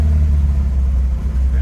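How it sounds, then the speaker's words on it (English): A Lotus Cortina engine idles steadily nearby with a smooth, even low rumble and no revving, running alone without talk on a cold day. "clean sounding engine note."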